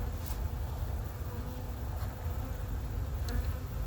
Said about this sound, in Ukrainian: Сьогодні бджоли літали.